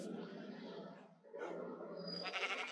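A goat bleats in the video game Minecraft on a wool farm, drawn-out wavering bleats that break briefly in the middle and then resume, clear and fairly close.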